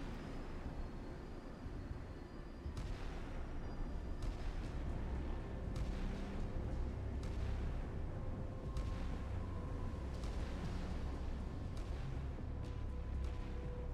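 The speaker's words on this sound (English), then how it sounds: "Guns firing off." Warship main guns firing in a naval warfare game, several heavy booming shots spaced across a continuous low engine and sea rumble, loud and close with no talk.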